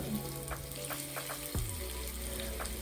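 Sliced onions and chilies hitting hot oil with fennel seeds, a loud, close sizzle that continues steadily throughout, with no one speaking.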